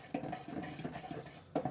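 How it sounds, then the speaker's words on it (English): A spoon scrapes and clinks around a mixing bowl as ground cinnamon is worked into Pfeffernüsse cookie mixture, a few quick close strokes in a brief burst. "Now, I'll stir that in."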